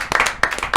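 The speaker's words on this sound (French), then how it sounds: "Rien que pour ça, on peut l'applaudir. Et surtout, on peut vous applaudir, vous." Brief hand clapping from a small group in a French talk show studio, a few quick sharp bursts of applause at close range, lasting under a second.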